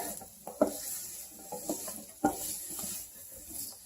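Vegetables and asparagus with ginger sweating in a pan for coconut-lime shrimp, a soft, low sizzle with a few sharp clinks and scrapes of stirring scattered through.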